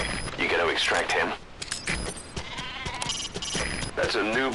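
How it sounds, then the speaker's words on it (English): A Nubian goat in the video game Metal Gear Solid V gives loud, wavering bleats close by, repeated over mechanical creaks and game noise. "That's a Nubian goat."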